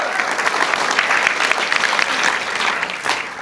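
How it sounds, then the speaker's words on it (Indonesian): A dense, steady burst of audience applause fills the room at a business presentation, many hands clapping continuously and fairly loud for a few seconds before easing slightly at the end. "Tepuk tangan dulu dong."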